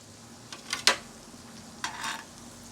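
Apple fritters frying in grease that is kept not too hot, giving soft intermittent sizzling bursts and light stirring clinks against a quiet steady background hum.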